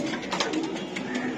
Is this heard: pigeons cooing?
yes